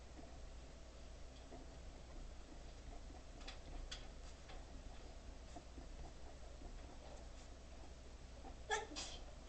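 A single sharp sneeze in a classroom during a statistics lecture, brief and fairly close, coming near the end after quiet ticking and shuffling sounds.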